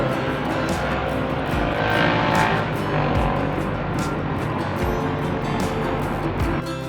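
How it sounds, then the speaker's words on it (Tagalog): Water sprayed onto the outdoor unit of a Chigo split-type air conditioner during cleaning makes a steady, loud broadband hiss and rush that runs unbroken throughout, with no voices. "Tsaka yung kanyang outdoor. Sprayan na din natin."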